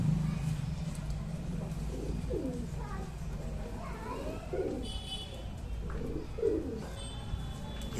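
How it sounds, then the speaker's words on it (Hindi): Bhopal pigeons coo repeatedly in soft, throaty bursts over a steady low hum, with a few faint chirps in the background. "ये कबूतर हैं आप दोस्तों के लिए"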